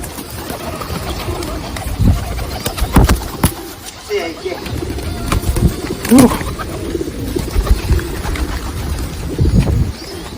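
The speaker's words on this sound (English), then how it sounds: "There are also a lot of pigeons that gather here, and you can buy some food to feed the pigeons too." Pigeons coo near Matsumoto Castle, soft low calls rising now and then under people talking close by, with footsteps and outdoor bustle around them.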